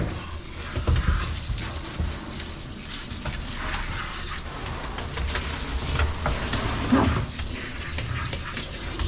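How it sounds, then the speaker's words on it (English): Water running and splashing while shampoo is rinsed off a dog, a steady broadband gush with occasional louder splashes and no talk. "let's rinse this first shampoo"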